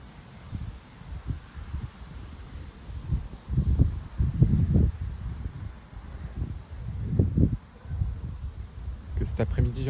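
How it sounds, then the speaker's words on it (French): Strong south wind at sunset gusting through leaves, rising and falling in irregular rustling surges with a constant faint hiss beneath, no voices. "Là, le vent sud, il est un peu excité."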